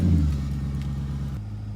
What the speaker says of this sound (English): I'm going to turn the ignition back on and I'm going to start the car.